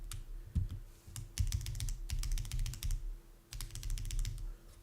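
Keys on a mechanical keyboard being built are pressed in quick irregular clusters to test the stabilizers, giving crisp close clacks in fast runs separated by short pauses, against a faint steady hum.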